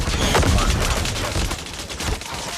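Dense gunfire from the mobile shooter Call of Duty Mobile: rapid, overlapping bursts of shots packed tightly together, loud and continuous for the whole stretch with barely a pause.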